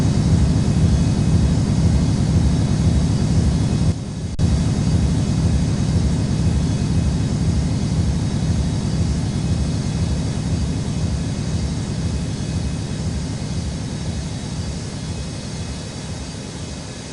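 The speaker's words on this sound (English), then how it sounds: "Cleared for takeoff runway 22 right at Whiskey" A heavy cargo jet takes off from Newark airport's runway 22 right, producing a steady, broad engine roar that holds loud and even before slowly easing off.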